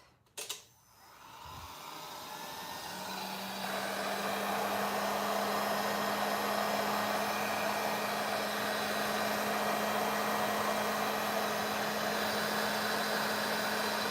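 A heat gun clicks on and blows hot air onto a piece of artwork, a close, loud, steady whooshing roar with a low motor hum that holds constant after a brief start-up.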